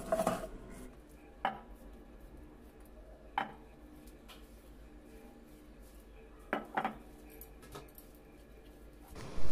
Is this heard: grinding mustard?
yes